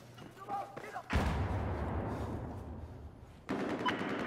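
Gunfire from the Battlefield 4 video game on the Lancang Dam map, a sudden loud burst of shots that rumbles on for a couple of seconds, then a second blast, with a player's voice heard faintly beforehand.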